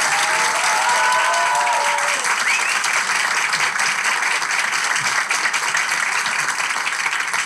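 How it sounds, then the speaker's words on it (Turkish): Lively audience applause at a live show, a sustained wash of many hands clapping, loud and even for over seven seconds, with a brief voice audible beneath it near the start. "Hani sanki bin kişi varmış gibi daha çok alkış."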